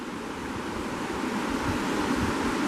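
Steady rushing river water beside a campsite in the Cispus area, a constant broadband wash heard close and alone at a moderate level, with no voices or other sounds.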